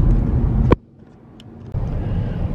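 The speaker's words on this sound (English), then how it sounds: "Traffic, traffic, traffic." Road traffic in LA County rumbles close by, a loud passing car giving way to a brief quieter lull before engine noise swells again.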